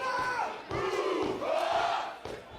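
A wrestling crowd at an indoor live match cheers and roars in sustained surging waves, with shouted chants rising and falling at a moderate distance.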